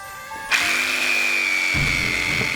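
A power tool starts up and whines at a high, steady pitch, then bites into plant stalks in a garden with a rougher, grinding tone near the end.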